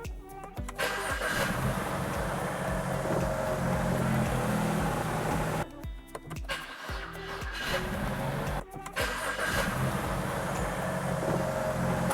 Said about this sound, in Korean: 자, 이렇게 작동을 시키고 시동을 한번 걸어 볼게요